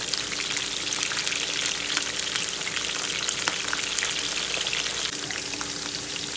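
Cauliflower chips frying in hot oil, a steady dense sizzle with crackling pops running throughout, close and loud, with no voices.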